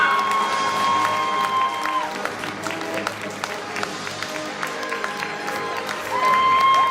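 An audience at an actors' convention panel at Paris Manga breaks into scattered clapping and cheering, while an amplified voice speaks over it and sustained tones ring at the start and end.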